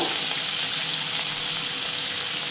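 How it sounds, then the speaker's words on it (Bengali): Chopped onions fry with black cumin seeds in a pan, giving a continuous, even sizzle heard up close with no voices. "পেঁয়াজগুলো একটু ভেজে নেব"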